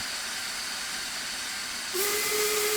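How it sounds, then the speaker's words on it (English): A steam locomotive whistle blows in Train Simulator Classic on the Somerset & Dorset Joint Railway, starting abruptly as a steady shrill tone over a constant hiss of steam and rail noise, and holding loud through the end. "I'm blowing my whistle like mad."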